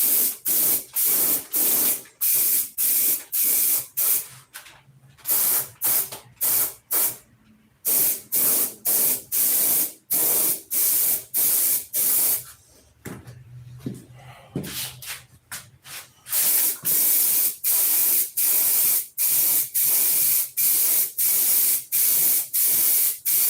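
Spray gun laying a coat of thinned pink paint, rapid repeated close hissing bursts with a brief lull midway before the spraying resumes.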